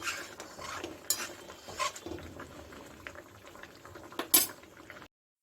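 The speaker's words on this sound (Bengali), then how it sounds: "আলুটা সিদ্ধ হয়ে গেছে এই জন্য আমি এখন এই বড়াগুলো দিয়ে দিচ্ছি" Fried green banana kofta balls being dropped into a simmering potato curry with green chillies, with soft bubbling, a few utensil clinks and scrapes, and sharper splashy bursts near the start and end, no talk.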